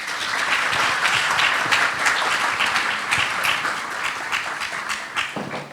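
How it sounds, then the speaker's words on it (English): A seated audience at a panel discussion gives a loud, sustained round of dense clapping that holds steady for several seconds and then thins toward the end. "So let's give them a round of applause."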